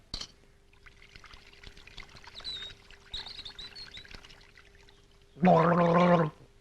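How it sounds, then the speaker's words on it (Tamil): Sambar poured from a vessel in a home kitchen gives a short, loud liquid splash and gurgle near the end, after several seconds of faint background chirps. "உங்க வீட்டு வேலைக்காரி என் மேல சாம்பார் ஊத்து பாக்குறா"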